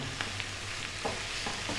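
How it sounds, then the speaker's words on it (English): Turkey sizzles and crackles as it is stir-fried in a hot pan, with occasional scraping taps as it is stirred around, close and moderately loud. "let's go for about 4 minutes, stir frying this around"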